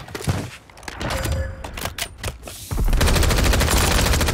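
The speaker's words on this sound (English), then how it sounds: "He was shooting right there." Gunfire in Call of Duty Warzone on Rebirth Island: a few sharp separate shots and thumps open, then from about the midpoint a loud continuous burst of rapid automatic fire closes it out.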